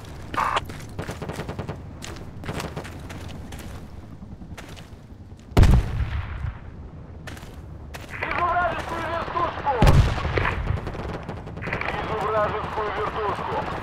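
Frag grenade explosions and gunfire in the video game PRTA, with a couple of heavy booms rising out of close rapid gunshots and bursts of fire, over a constant battle background.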